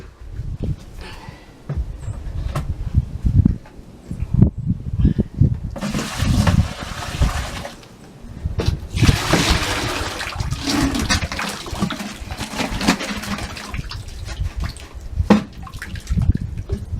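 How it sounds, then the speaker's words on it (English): Water pours off a bucket of soaked straw for insulation, a long, loud, steady splashing and gushing that swells and ebbs in waves, close up with no speech. "I think I'm going to pour off a little bit of the water."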